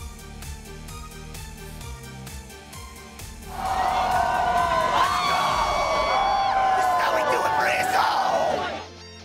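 A basketball crowd roars and cheers, surging suddenly from a quieter murmur into a loud, sustained wall of yelling and whoops that holds for several seconds before cutting off.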